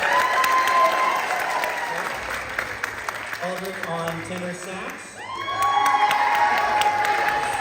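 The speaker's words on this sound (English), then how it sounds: "Let's give him another round of applause" Applause and cheering from a high school band concert crowd, with whoops and children shouting mixed in, while a presenter speaks over the sustained clapping; band instruments sound briefly midway.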